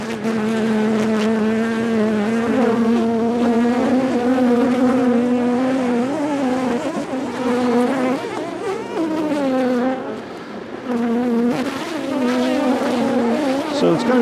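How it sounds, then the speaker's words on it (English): Large swarm of honeybees in a garden cart, a loud, dense, continuous buzzing hum close by, its pitch wavering as the bees move. "this is a large swarm, and I think they'll be able to protect themselves pretty easily"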